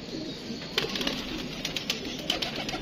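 A pigeon coos in soft, low repeated calls against steady background noise, with a few brighter bursts that may be wing flutters or movement, fairly close.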